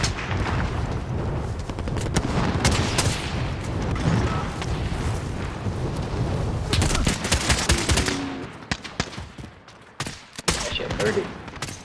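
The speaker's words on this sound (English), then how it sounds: "Receiving hostile fire." Heavy automatic gunfire in the Call of Duty Modern Warfare video game, dense overlapping bursts and booms nearly nonstop, easing into sparser shots near the end, with faint in-game voice callouts mixed in.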